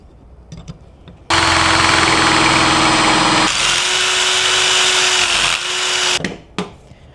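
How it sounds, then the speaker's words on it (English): Close, loud power drill runs in one sustained burst of several seconds drilling out a rivet on a truck tonneau cover latch, its pitch shifting slightly midway, with faint clicks before and after. "so now we'll drill out the other side."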